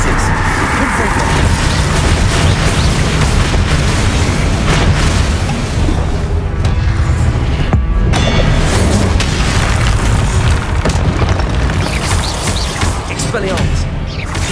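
Confringo blasting-spell explosions in the Hogwarts Legacy video game, dense loud booms and crashes filling about fifteen seconds of busy combat audio, with speech mixed in.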